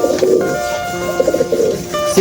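Racing pigeon cooing at a loft on arrival from a first-lap derby, low rounded coos repeating in short bursts across a couple of seconds, fairly close and clear with faint background noise.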